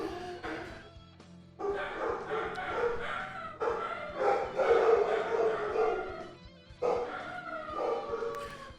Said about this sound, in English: there's my stupid dogs